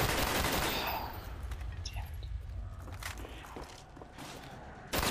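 Gunfire in Black Ops Zombies on Nacht der Untoten, as weapons are fired at zombies: a loud burst of shots opens the clip, then sparse shots and game sounds continue at lower level.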